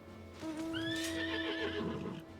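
A horse in Final Fantasy XIV gives a loud, clear whinny that rises and wavers for about two seconds over a steady low game hum, with faint hoof clops underneath.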